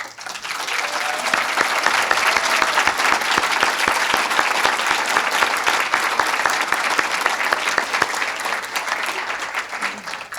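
Sustained applause from an awards ceremony audience clapping for the parents, a dense, loud, steady wash of many hands that holds evenly throughout without fading.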